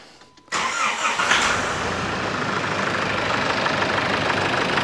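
Nissan Patrol ZD30 diesel engine cranking and catching after a brief quiet moment, then settling into a loud, clattery, steady idle close by.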